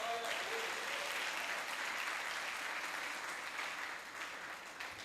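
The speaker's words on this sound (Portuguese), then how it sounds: "Dê um aplauso ao Senhor" A church congregation applauds together, a steady wash of many hands clapping heard from a distance at a fairly low level, dipping slightly near the end.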